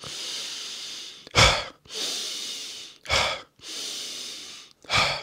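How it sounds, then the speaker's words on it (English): A person doing a breathing exercise with long, slow airy inhales followed by short, sharp exhales, repeated three times at close range. "if you was to breathe in for longer and exhale shorter"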